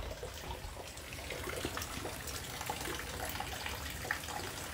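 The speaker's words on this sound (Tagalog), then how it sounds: "Ayun, tubig na yan." Floodwater rises around a house at night during a storm, making a faint, steady rushing and trickling that continues without a break and carries no voices.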